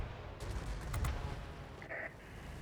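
Rapid aircraft gunfire bursts from a Ki-93 heavy fighter in World of Warplanes, a dense rattling volley rising near one second and fading into engine roar, with a brief higher tone later.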